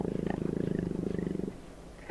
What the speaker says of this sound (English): Whoever was recording this leopard had really pissed it off.